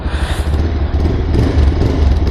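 A 2024 Bajaj 220 motorcycle engine runs close by and is revved gently, giving a steady, loud, throaty rumble that swells slightly over a couple of seconds.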